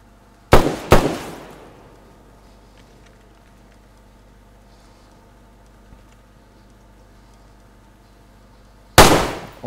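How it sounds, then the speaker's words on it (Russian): Gunshots in the video game DayZ during a prison mission: two sharp, loud shots in quick succession with a short decaying tail, then a long quiet stretch of low background hum before another loud shot near the end. "Прямо у меня под боком выстрелил."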